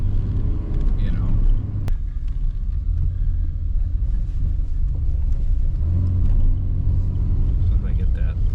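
A 1990 Chevrolet Cavalier Z24 engine hums and rumbles from inside the car while driving, loud and steady with swells in pitch, as people talk over it.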